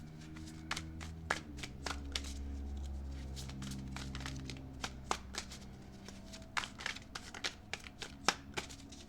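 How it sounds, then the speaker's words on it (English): Tarot cards being shuffled by hand, close and quiet, with a soft riffle and then a run of sharp, irregular card snaps and slaps, no voices. "I'm going to shuffle out all the cards and then I'll speak on the message."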